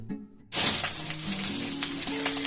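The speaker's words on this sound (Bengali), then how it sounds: "মাছগুলো দেখুন আমার ভাজা হয়ে গেছে" Pieces of katla fish frying in hot oil in a pan, a sudden loud burst of dense crackling sizzle that starts after a brief quiet moment and then keeps bubbling steadily up close.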